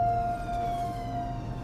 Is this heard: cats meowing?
no